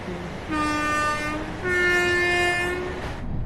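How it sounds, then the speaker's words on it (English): Loud, sustained multi-tone horn of a Class 802 train in the video game Train Sim World 6 blasting in two long bursts over a steady rumbling background. "the horns sound like the thing which you would hear at a football or soccer stadium"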